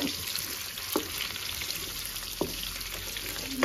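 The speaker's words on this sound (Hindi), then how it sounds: "अंडे और आलू को 2 मिनट के लिए मैं थोड़ा सा फ्राई करूंगी" Steady sizzling of eggs and potatoes frying in a pan, with a couple of soft scraping stirs.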